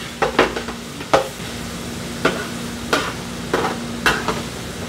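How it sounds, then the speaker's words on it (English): Meat for shepherd's pie cooking in a pan, with a low sizzle underneath and about eight sharp scraping strokes of the spoon against the pan at an irregular pace, close and fairly loud. "Alright, the meat's almost ready. Stir."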